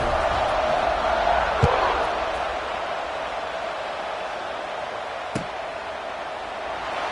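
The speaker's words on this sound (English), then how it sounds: "this crowd is buzzing after that last score" A football stadium crowd at a Florida versus LSU game keeps up a dense, steady roar of murmuring after a score, with a couple of faint thuds standing out from the wash of noise.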